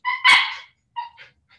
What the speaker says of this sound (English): I have two dogs with me that are playing.